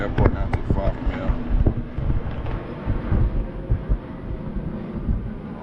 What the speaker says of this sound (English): Excuse that plane.